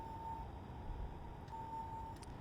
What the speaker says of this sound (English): It's going to be beeping all the way whilst we're being towed.